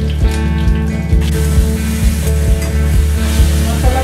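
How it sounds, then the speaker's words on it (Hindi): Masala with bay leaf and dried fenugreek frying in a pan, a loud close sizzle with a steady crackling hiss and rhythmic scraping taps of a spoon stirring, no talk. "पूरा अच्छे से मसाला फ्राई हो रहा है एकदम"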